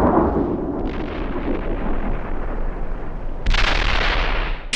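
Heavy gunfire and explosions thunder across a Steel Beasts Pro PE tank battle, a continuous low rumbling barrage, with a bright harsh blast cracking in near the end.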